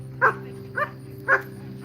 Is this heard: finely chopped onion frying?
no